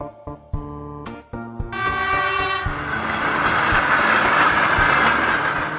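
A train approaches along a railway track, its horn sounding in bursts before the cars rush past with a loud, steady rumble and clatter that builds and holds to the end.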